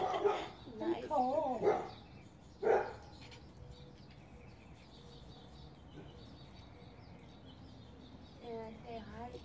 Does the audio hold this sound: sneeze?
no